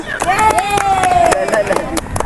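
A class of students claps for a classmate during a games lesson, brisk scattered hand claps mixed with excited voices and chatter close by.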